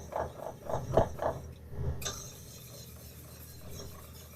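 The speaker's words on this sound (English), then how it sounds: "We're going to get a little fire underneath these. Not too hot. And we're just going to whisk away." A whisk scrapes and clacks around a pot of cheese sauce set over a fire, giving a quick run of rhythmic metallic strokes that stop after about two seconds, followed by quiet crackling background.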